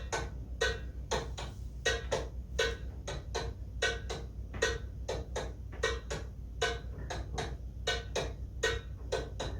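Hand drum playing the Masmudi Sagir (Beladi) 4/4 rhythm, a quick repeating pattern of crisp, fairly faint strikes over a low background rumble, heard alone without talk.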